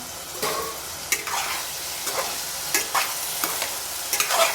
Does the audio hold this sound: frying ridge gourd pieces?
yes